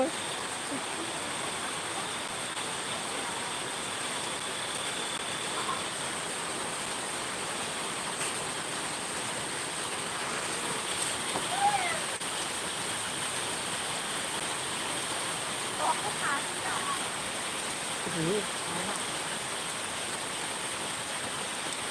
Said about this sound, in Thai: ที่นี่ฝนตก ตกดีมากเลยไม่มีลมค่ะ